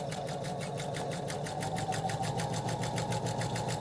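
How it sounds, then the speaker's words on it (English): A sewing machine stitches a fabric patch onto foundation paper for paper piecing, its needle running in a fast, steady, even rhythm close by for the whole stretch, with no voice over it. "And then you can just sew to the edge here."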